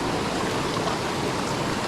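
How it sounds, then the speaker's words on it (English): A waterfall on a North Carolina trout stream pours in a steady, dense rushing roar, close and constant with no voices over it. "Bro, that's a waterfall."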